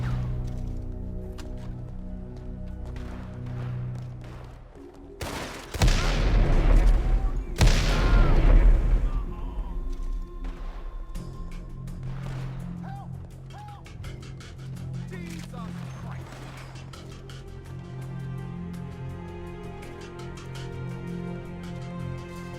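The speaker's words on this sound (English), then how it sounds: "the gunfire and commotion was sure to draw the attention of the police" Gunfire sound effects in a dramatized story: two loud booming bursts of shots stand out over a bed of music, followed by quieter scattered impacts and a lingering musical backdrop.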